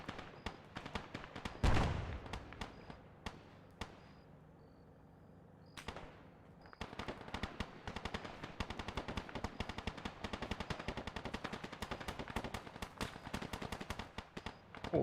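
Video game gunfire fills the scene with rapid, crackling bursts of automatic shots and single cracks, one louder close shot early on, then a brief lull before dense firing resumes at a steady, moderate distance.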